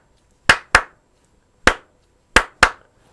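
Five crisp hand claps ring out alone in an uneven, dotted pattern, two close together, a pause, a single clap, then another close pair, each with a short room tail.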